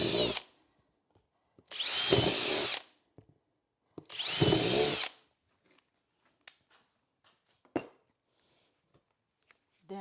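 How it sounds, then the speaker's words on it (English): A power drill fitted with its biggest bit bores holes into a plastic planter pot in two separate whirring bursts of about a second each, with light clicks and handling sounds between them and after. "you're going to grab your drill with the biggest bit, and we're going to drill a couple spots in"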